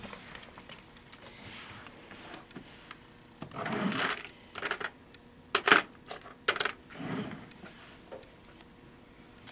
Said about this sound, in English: And we will start stitching this guy together.